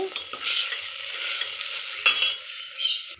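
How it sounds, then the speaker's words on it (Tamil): Onions and tomatoes with salt sautéing in a pan for a spinach dish, a close, continuous sizzle with intermittent scraping of a spoon against the pan and no voices. "உப்பு போட்டு வதக்கிக்கோங்க"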